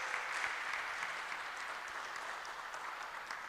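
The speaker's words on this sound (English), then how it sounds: "Can we kindly give Father another round of applause?" Steady applause from a church congregation at Christ the King, Cantonments, a dense even wash of many hands clapping at moderate distance, sustained throughout without talk.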